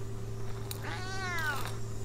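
A single drawn-out cat meow from the video game Memoranda, rising then falling over about half a second, heard alone over a steady low background hum.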